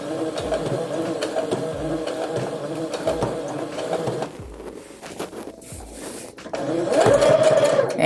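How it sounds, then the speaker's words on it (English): A home sewing machine runs a straight seam through fabric for an envelope pillow, its motor whirring steadily near the microphone with short pauses and restarts, and a faint voice in the background. "press my needle down, and then begin to sew, and then do a back stitch, and then just sew"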